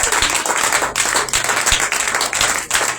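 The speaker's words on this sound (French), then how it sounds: "Est-ce qu'on peut acclamer le Seigneur Jésus-Christ?" A church congregation breaks into sustained clapping and applause to acclaim Jesus Christ, dense and continuous throughout with a few sharper claps standing out.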